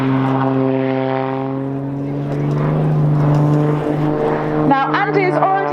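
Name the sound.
Blades aerobatic propeller aeroplane engine during airshow display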